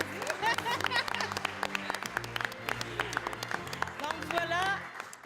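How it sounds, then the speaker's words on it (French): Steady applause from a group at a press conference unveiling a new team, dense clapping throughout with cheerful voices and whoops mixed in, fading near the end. "C'est moi qui t'applaudis."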